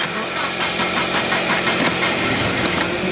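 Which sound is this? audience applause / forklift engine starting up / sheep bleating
forklift engine starting up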